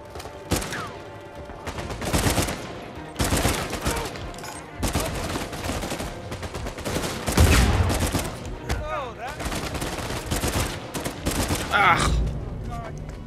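Repeated bursts of blind-fire gunfire in Uncharted 4 rattle out in dense volleys across the whole stretch, loud and close, with short gaps between bursts and voices talking over the action.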